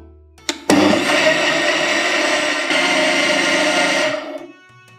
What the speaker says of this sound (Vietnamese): Rồi bây giờ mình sẽ bắt đầu xay đậu xanh nha các bạn.